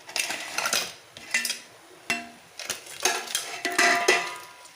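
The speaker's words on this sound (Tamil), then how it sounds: "நண்டை வந்து இதில் போட்டுடலாம்" Crab pieces dropped into a cooking pot, giving a run of close, uneven clinks and clatters of shell against metal, moderately quiet, with no voices.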